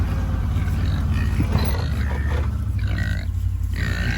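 Pigs grunting and snorting close by over a steady low rumble of farm background noise, with overlapping squeals and grunts throughout.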